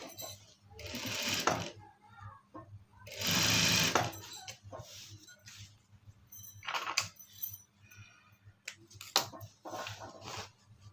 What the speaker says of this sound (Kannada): ಈ ರೀತಿ ಈಕ್ವಲಾಗಿ ಇಟ್ಕೊಂಡು ನಾವು ಸ್ಟಿಚ್ ಹಾಕ್ತಾ ಹೋಗಬೇಕು